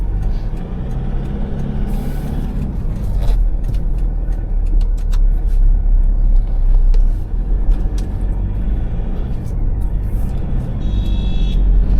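Steady engine drone and low rumbling cabin noise fill the space from inside a moving old Toyota Innova, with strong engine vibration, occasional faint clicks and no clear speech.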